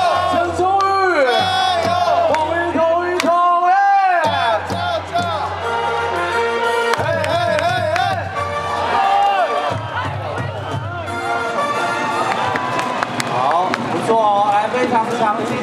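A stadium crowd at a professional baseball game cheering and chanting in unison, loud and dense throughout, with an amplified announcer's voice leading the chants over the roar.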